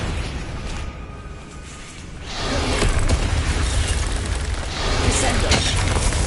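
Confringo blasting spell explosions in the Hogwarts Legacy video game, with a quieter rumble giving way to loud, sustained booming bursts that swell again near the end amid dense combat noise.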